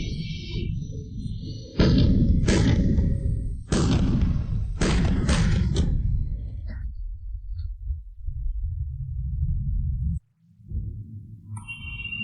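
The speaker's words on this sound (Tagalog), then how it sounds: "Ginoo, nakarga na ang bala. Paputukin ang kanyon." Cannon blasts on an ancient battlefield: a series of heavy, booming thumps in quick succession, each a loud broad burst, followed by a low rumbling tail and a sudden drop to near silence.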